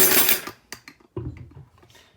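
Lid set back onto a one-pot mixed vegetable curry, a short metallic clatter and scrape followed by a couple of lighter knocks and a softer settling clunk, close up.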